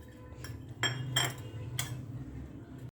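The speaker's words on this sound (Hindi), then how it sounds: "ये देखिए इसमें तेल लगा के तैयार करेंगे कटोरियों को।" Small metal bowls clink and clatter as they are greased with oil before being filled with dal-rice idli batter, giving a few sharp knocks against a quiet kitchen hum.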